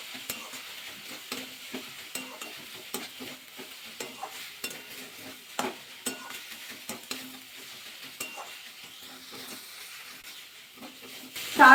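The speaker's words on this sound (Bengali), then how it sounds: "4-5 মিনিট ধরে কিন্তু নাড়াচাড়া করে দিলাম।" Cauliflower and carrot mixture with turmeric, salt and coriander leaves is stirred as it fries in a pan, with a steady soft sizzle and irregular scraping stirs throughout, growing louder at the very end.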